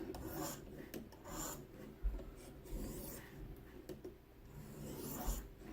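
A knife blade drawn repeatedly across an abrasive stone clamped in a ViperSharp guided sharpener, giving close, rhythmic raspy scraping strokes with no voices.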